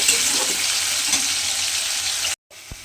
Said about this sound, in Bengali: প্রথমে আমি আলুটা দিয়েও কিন্তু একদম লাল লাল করে ভেজে নেব